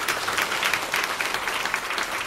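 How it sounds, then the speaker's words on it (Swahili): A crowd claps steadily and densely at a Swahili-language political gathering, a sustained round of applause with no voices over it. "naomba tuwapongeze kwa makofi mengi"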